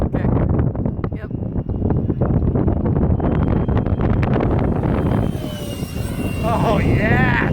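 Durafly DH 100 Vampire Mk 6 RC jet making a high-speed pass on a very windy day, a loud, rushing, steady whine that swells and trails off amid heavy wind buffeting, with a voice shouting near the end.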